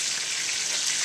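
Sausages sprinkled with fennel seeds sizzle on a BBQ pit, a steady, close hiss of frying fat with no voices.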